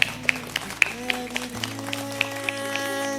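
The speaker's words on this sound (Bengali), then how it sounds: "হাততালি চাই, প্রচুর হাততালি চাই অঙ্কুশের জন্য" An audience applauding for actor Ankush Hajra at a comedy-role award ceremony, scattered claps ringing out at an even pace over a low musical backdrop, with a voice faintly present.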